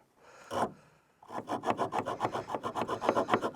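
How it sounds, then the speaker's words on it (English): Wood being chiselled out at an off-grid build site in Africa: one isolated scrape, a brief pause, then a fast, rhythmic run of rasping strokes, close and fairly loud, with no voices. "And chisel them out."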